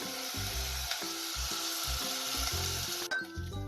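Rice sautéing in a pan for traditional coconut rice gives a steady, moderate sizzle with soft scraping stirs, backed by quiet low tones, and no one speaks.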